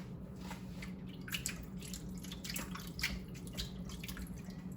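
Asparagus spears dumped into a bowl of ice water and stirred by hand, giving faint close-up splashes, drips and sloshing in an irregular rhythm over a low steady background.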